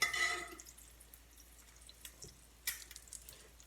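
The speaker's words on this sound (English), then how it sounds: "I get this grease, and I pour it on the whites" Hot bacon grease spooned over duck egg whites in a tilted pan makes light, irregular dripping and spattering ticks, fairly close and quiet, with no talk.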